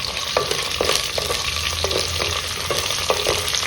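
Fenugreek, mustard and cumin seeds fry in hot oil for a dal, with a constant close hiss broken by quick crackles and pops.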